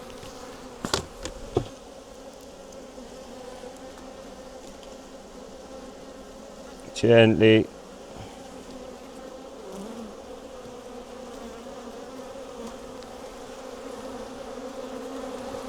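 Defensive honey bees buzz around an opened hive, a steady low drone running throughout with a few sharper louder bursts close by, and a brief spoken word.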